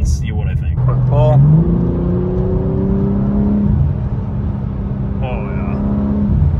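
A BMW M4 CSL pulls hard on a highway on-ramp, its engine note climbing steadily through a long rising whir heard from inside the cabin, with brief voices over it.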